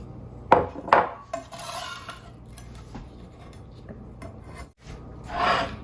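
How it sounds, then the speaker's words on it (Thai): A knife slices shallots on a cutting board for fried rice with salted fish, producing a few sharp close chopping taps and rasping cuts spread unevenly through a quiet kitchen. "เดี๋ยวเราก็ซอยหอมใส่ลงอีก"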